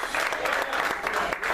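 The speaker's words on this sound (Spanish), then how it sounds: "Póngale estas palmas al Señor bien fuerte" A church congregation claps together during a worship service, a dense, steady wash of applause that carries through the whole moment without pause.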